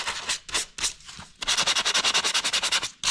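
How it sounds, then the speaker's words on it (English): A small piece of sandpaper rubs burrs off drilled holes in a model rocket body, first in a few separate scrubbing strokes, then in a quick steady run of about a dozen rhythmic back-and-forth passes, close and crisp. "you can use a little piece of sandpaper. You just take the little burrs off there"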